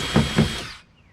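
A power drill bores through a layer of an Old Town canoe hull, two short close whirring bursts that wind down and fade to near quiet.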